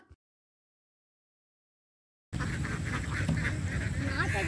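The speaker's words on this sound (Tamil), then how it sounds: "இங்கேயும் பாருங்க நிறைய வாத்துங்க." A flock of ducks at a duck farm, many birds quacking together in a dense, continuous chorus that comes in abruptly after a silent gap and stays loud and close to the end.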